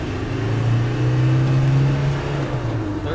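Land Rover Defender 90 pickup from 1995 with a 300Tdi diesel, accelerating through the gears, a loud, close engine drone that rises in pitch and then eases, with no voices.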